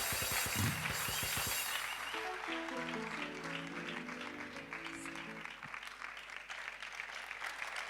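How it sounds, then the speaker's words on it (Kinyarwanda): A church congregation breaks into sustained applause during a service, dense clapping filling the space at full volume, while music and a voice carry on underneath. "reka tambuke dukomere Imana amashyi"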